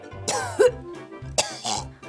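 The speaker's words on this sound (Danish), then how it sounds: "Sikkert er en tør hoste, du har fået." A dry cough, heard as two bursts of throat-clearing coughs about a second apart, close and fairly loud.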